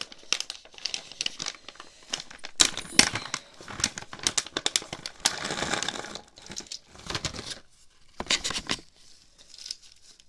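Plastic bag of mechanical keyboard switches being opened during a keyboard build, with close crinkling and rustling in bursts, sharp tearing crackles and loose switches shifting, no talk.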